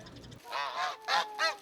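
A mother-and-daughter pair of geese roaming a shopping area let out four loud, harmonic honks in quick succession, close by, with no talk.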